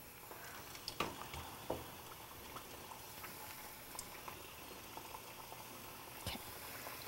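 Samosas fry in a pot of hot oil, giving a steady, soft sizzle and bubbling. A few small pops and clinks stand out, and no one talks.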